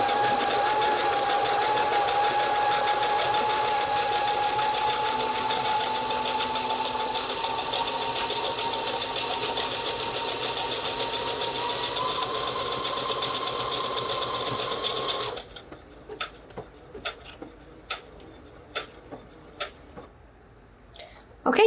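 A sewing machine stitches a buttonhole with a steady, close mechanical whir and hum for about fifteen seconds, then slows into a series of separate ticking clicks as it stops.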